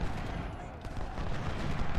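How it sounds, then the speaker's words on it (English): Cannon and musket fire crackle in the battle game Ultimate General: Civil War, with a burst of sharp distant reports over a rumbling battlefield din that stays moderately loud throughout. "And there goes the cannon."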